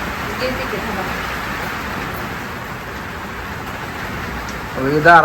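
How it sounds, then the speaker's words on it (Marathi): Steady rain falls outdoors as a constant wash of hiss, with a voice starting up near the end. "पाऊस चालू आहे बाहेर"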